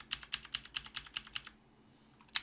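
Quick run of about nine even keystrokes on a computer keyboard while renaming a notebook, crisp and close, followed by a pause and one last key tap.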